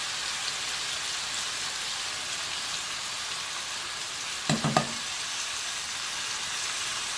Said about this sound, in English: So just some regular old diced tomatoes in the pot.